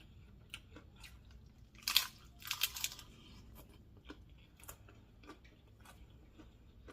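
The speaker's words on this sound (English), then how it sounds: "I love the crunch on the shells, I love the crunch." Someone chews crunchy homemade chicken taco shells up close, a quiet cluster of crisp crunches in the middle among scattered faint clicks and bites.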